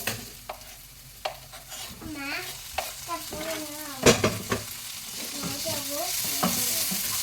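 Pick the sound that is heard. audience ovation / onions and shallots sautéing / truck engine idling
onions and shallots sautéing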